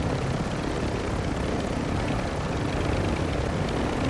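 An enemy helicopter in a battle royale video game flies steadily nearby, its rotor and engine roar loud and unbroken throughout.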